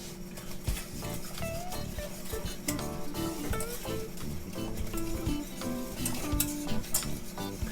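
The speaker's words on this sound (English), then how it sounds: "I'm whisking." A wire whisk beats a mixture containing nutritional yeast in a bowl for an appetizer, producing dense, continuous rapid clinking and scraping throughout.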